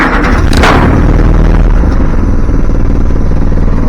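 An old, cantankerous 1946 Jeep engine cranks and fires roughly, producing a loud, continuous, clattering rumble with a sharp bang near the start, close by.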